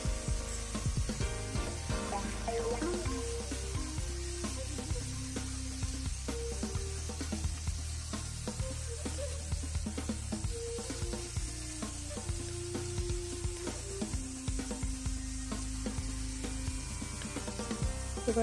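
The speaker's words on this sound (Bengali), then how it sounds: "এবার আমি দিয়ে দেবো চিকেনের টুকরোগুলো দিয়ে ভালো করে" Chicken pieces fry with garlic in a hot pan for Chinese chicken spring rolls, a steady loud sizzle running throughout with occasional scraping and stirring clatter, no voices over it.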